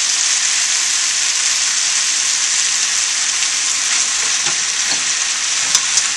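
Curry for a vegetable korma with potatoes fries in a pan, giving a loud, even hiss of sizzling oil with faint scraping from stirring and no speech.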